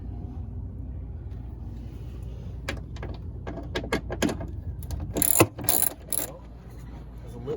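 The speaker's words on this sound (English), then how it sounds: "there's 3 more 10mm bolts here to take off this back rail" Ratchet clicking as 10mm bolts are removed from the rear tonneau cover rail of a Hyundai Santa Cruz pickup; close, bursts of sharp ratcheting clicks that grow louder and faster toward the end, with no talk.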